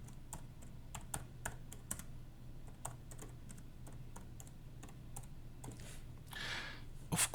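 Keys clack in quick irregular bursts on a computer keyboard while a title is entered in a PowerPoint slide, close and fairly quiet over a low steady hum, with a brighter flurry of keystrokes near the end.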